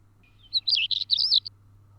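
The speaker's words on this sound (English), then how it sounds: "I don't usually recognise the song of a stone chat" A short, quiet burst of high, scratchy stonechat song, a few quick chirpy phrases over a low steady hum, then it stops.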